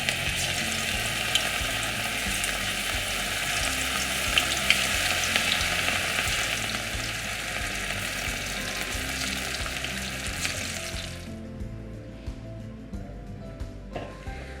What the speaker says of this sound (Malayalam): കോളിഫ്ലവർ വറുത്തെടുക്കുന്നതിന് വേണ്ടി ഞാനിവിടെ എണ്ണ തിളയ്ക്കാനായിട്ട് വെച്ചിട്ടുണ്ട്.